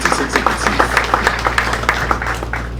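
Audience at a formal event applauding a special representative and an executive director: a steady run of close, distinct hand claps with a regular rhythm, loud and alone without talk.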